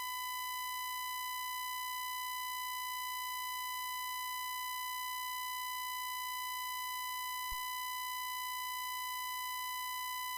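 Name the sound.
1 kHz difference tone from 20 kHz and 19 kHz sine waves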